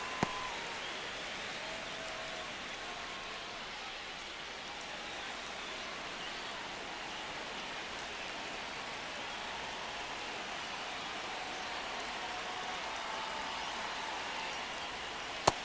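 Steady, dense stadium crowd murmur fills a baseball game in MLB The Show 25 as the Rangers and Padres play a tense ninth inning, a broad continuous wash with faint cheering swells and no voices on top.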